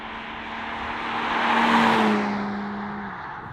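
A BMW M3 Competition passes with its engine note rising then falling, a loud swelling roar that peaks midway and fades as it moves away.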